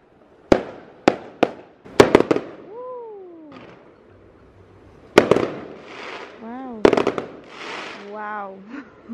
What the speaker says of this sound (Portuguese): Estão soltando fogos aqui.